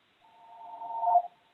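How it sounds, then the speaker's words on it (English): A mobile phone rings during a library board meeting, a single steady electronic tone that swells gradually and cuts off abruptly, fairly faint with no talk over it. "Excuse me, that's my phone."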